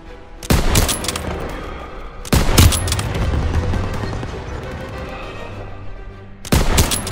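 Heavy Call of Duty WWII battlefield gunfire, loud sustained volleys of rifle and machine gun shots in dense bursts with brief lulls, close and booming.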